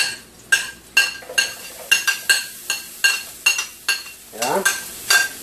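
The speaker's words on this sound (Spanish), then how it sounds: "Unas cebollitas ahí para dorarlas junto con el..." Onions and chili fry in a pan while a utensil scrapes and clinks against it in a steady, repeated stirring rhythm over a soft sizzle, close and clear, with no talk.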